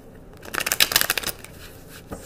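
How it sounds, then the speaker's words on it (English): Tarot cards being shuffled by hand, a rapid flurry of crisp riffling clicks that builds, peaks and fades over about a second, followed by a lone soft tap, close and fairly quiet. "But I'm getting to shuffle 5 times for you guys."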